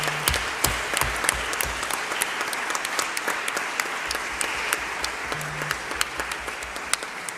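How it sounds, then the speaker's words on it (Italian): Hall audience at the annual convention of Friulians abroad in Udine claps in sustained applause, a steady rattle of many hands with distinct individual claps standing out and a faint low hum beneath. "farei arrivare a tutti loro un grandissimo applauso"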